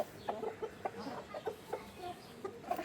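Australorp chickens clucking in short, repeated bursts at close range, several birds calling over a quiet background with no talking.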